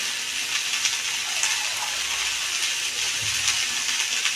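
Water poured into a pan of Bengali fish curry with fried cauliflower and potato, giving a steady hissing, bubbling wash that stays close and even throughout, with no speech.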